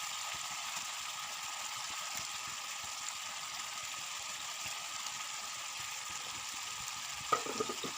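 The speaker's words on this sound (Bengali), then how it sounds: "এবারে আমি দিয়ে দেবো ভেজে রাখা মাছগুলো" Fried catla fish pieces go into a pan of simmering yogurt masala. A steady, soft sizzle and bubbling continue throughout, with a brief thud near the end as the pieces land.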